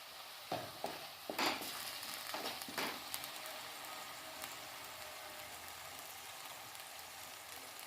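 Tomato with soy sauce sizzling in a pan for chicken dry chilli, with a steady frying hiss and several sharp scraping stirs early on, continuing alone.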